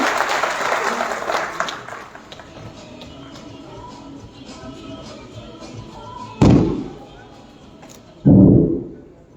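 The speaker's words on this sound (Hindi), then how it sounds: "जोरदार तालियों के साथ स्वागत करें सर का।" Applause from an audience welcoming a speaker at a conference for BC Sakhi banking correspondents in India, dense clapping fading over several seconds, followed by two sharp loud thumps near the end.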